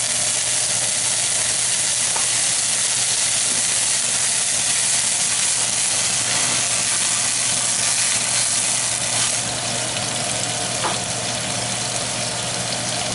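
Whiskey, about two ounces, sizzles and hisses steadily in a hot pan as its alcohol burns off for a beef tournedos peppercorn sauce; a loud, continuous frying hiss with no talking.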